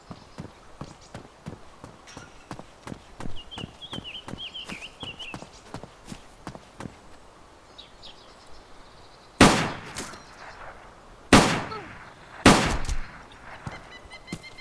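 Three loud video-game gunshots crack out in quick succession near the end, after a long stretch of steady hoofbeats or footsteps, with a faint voice and small clicks in between.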